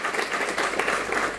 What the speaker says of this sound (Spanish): Diría un fuerte aplauso para ellos por tanto esfuerzo